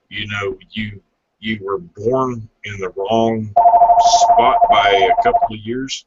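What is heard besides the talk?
telephone ringing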